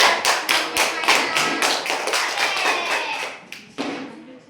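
A classroom of children clapping hands, a quick run of sharp claps that blur into scattered applause and then fade, fairly close.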